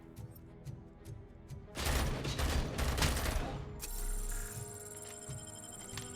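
Gunfire from a gun in RoboCop: Rogue City, a loud dense burst lasting about two seconds followed by mechanical clicks and a steady high electronic whine, with light clatter before.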